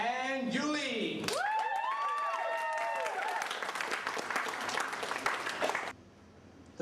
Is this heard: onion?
no